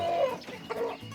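A rooster named Elvis, a part Silkie, part Cochin, half Easter Egger bird, gives a couple of short, close clucks inside a backyard chicken coop kept with five hens.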